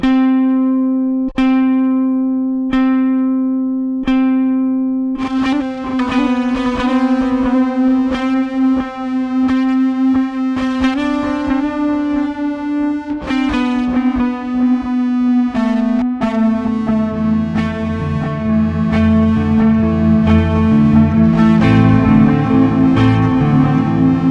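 An electric bass plays a solo through three Walrus Audio effects pedals with gain cranked up, starting with a few plucked single notes, then a fast run of notes and sustained chords with a processed, distorted tone.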